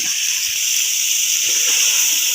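Spices frying in hot oil for aloo matar pulao, with red chillies, dry coriander and garlic powder in the pan, giving a steady close, bright sizzling hiss that runs unbroken throughout.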